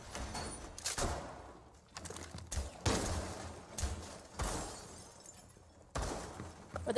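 Shotguns fire in a Rainbow Six Siege match: several sharp, loud blasts come at irregular intervals, each followed by a brief decay into quieter background.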